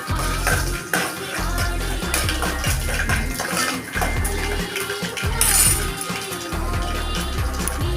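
Mustard seeds, cumin, urad dal, garlic and curry leaves fry in half a spoon of oil in a pan, with repeated metallic scraping and clinking of a spoon stirring, loud and close, alongside a sizzling hiss.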